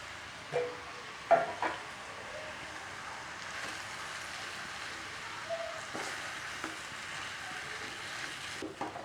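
Boiled potatoes and spices frying in oil in a pan, a steady soft sizzle throughout with a few brief clinks and stirring knocks, fairly quiet and with no talk.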